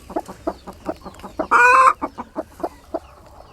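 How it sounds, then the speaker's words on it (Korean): A brooding hen sitting on eggs clucking in a steady, low repeated rhythm nearby, broken by one short loud squawk in the middle. "알을 품는 암탉은 신경이 예민해져 공격적이 된다."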